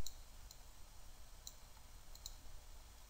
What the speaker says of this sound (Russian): И затем мы кликаем левой кнопкой мыши, ну, скажем, вот по этому ребру.